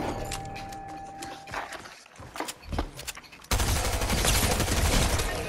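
Gunfire in Fortnite during a one-on-one match: scattered sharp shots and light footsteps, then a loud, dense burst of rapid fire that continues to the end.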